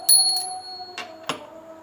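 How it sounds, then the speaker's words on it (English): A small hand bell rung for a Bhoga offering clangs three times, the first strike loud and ringing on, followed by two quicker, fainter strikes, with the metallic tone sustaining between them. "You must leave the curtain unopened, and then ring the bell"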